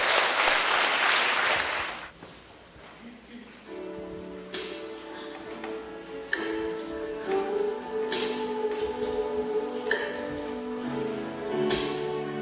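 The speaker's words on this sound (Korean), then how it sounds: "박수해 주시겠습니다" A congregation applauds at a church graduation service for a discipleship-training course; a dense burst of clapping fills the first two seconds, then fades into a hall where music and voices carry on.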